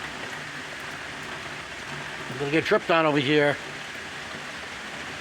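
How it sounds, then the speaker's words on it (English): A heavy rainfall hisses in a steady, even wash outdoors. A person speaks briefly partway through, over the continuous rain. "Coming down. We do need rain."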